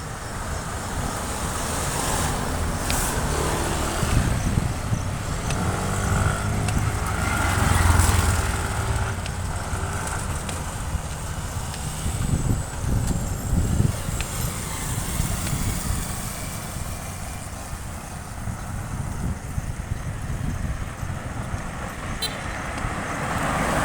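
Busy street traffic near a mall in a residential barangay: a continuous roadway rumble of passing cars, motorcycles and pedicabs with engines buzzing by, occasional horn toots and a heavier vehicle swelling past midway.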